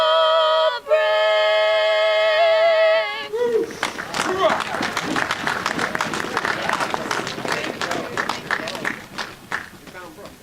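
Applause and cheering from an outdoor Wreaths Across America ceremony crowd break out right after a sung national anthem ends, a loud, sustained burst of clapping that tapers slightly over several seconds.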